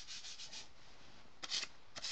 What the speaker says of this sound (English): So you guys don't hear that so much of me sanding in the back.